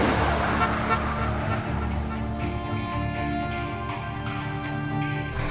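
Cars driving in the video game Call of Juarez: Gunslinger give a steady, close engine drone with humming harmonics that holds for several seconds and eases slightly toward the end; no speech is heard.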